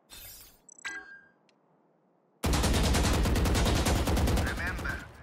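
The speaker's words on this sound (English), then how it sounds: "shoot the central target with sustained fire" Sustained automatic gunfire at a central target in the video game Valorant; after a couple of faint clicks and a near-silent gap, a loud, dense stream of rapid shots runs without a break to the end.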